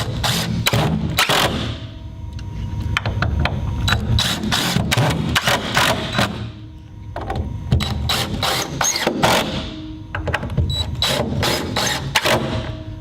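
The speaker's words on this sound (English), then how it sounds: "then very simply just screw in the screws from the bottom" Screws being driven into a steel pedestal table from underneath, a rapid mechanical whirring in repeated short bursts with brief pauses between them, close and fairly loud.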